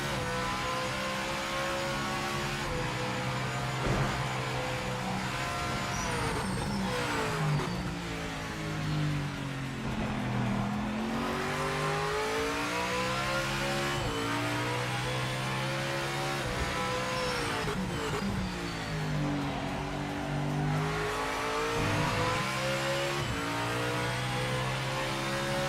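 Race car engines in the Project Motor Racing video game roar loud and continuous, with revs climbing and dropping through gear changes and brief tire squeal, no talking over them.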